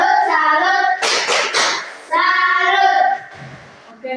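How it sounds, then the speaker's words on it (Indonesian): A group claps a short salute, one burst of hand claps in the middle between stretches of singing or chanting voices. "Satu kali tepuk salut untuk Mitchell"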